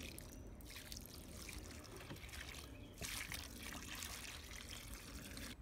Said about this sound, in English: and now we'll start watering it.